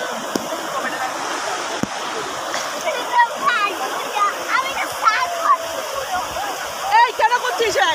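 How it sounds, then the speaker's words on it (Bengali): Sea waves at Digha beach wash in and splash over people standing in the surf, a steady loud rushing and sloshing with brighter bursts of spray, while voices chatter and call out nearby. "ঢেউ আছে, পড়ছে আমাদের গায়ে।"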